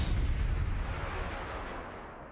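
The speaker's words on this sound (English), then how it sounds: "Oh man, that gravity cannon" A gravity cannon firing in an Apex Legends pro league match, a single heavy booming blast that fades into a rumbling tail.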